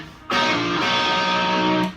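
Distorted electric guitar plays double stops in sixths on the 4th and 2nd strings, two sustained, thick chords sliding between positions, loud and close with no talking.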